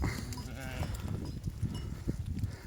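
Sheep bleat repeatedly against a noisy outdoor background, the calls rising and falling at moderate distance with some rustling in between.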